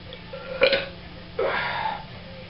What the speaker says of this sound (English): Doing beer reviews makes you burp a lot.